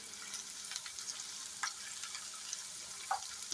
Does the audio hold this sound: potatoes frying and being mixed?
yes